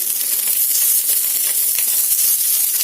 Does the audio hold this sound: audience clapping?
no